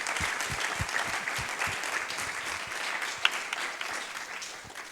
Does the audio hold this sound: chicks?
no